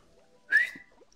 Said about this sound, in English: I'll give a whistle to call them back to here.